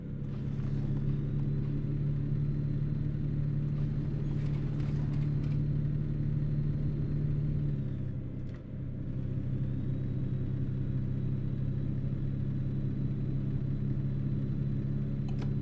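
A truck cab in American Truck Simulator, slowing near rollover signs, rumbles with a steady low engine drone and faint creaking rattles throughout. A brief dip in the sound comes partway through.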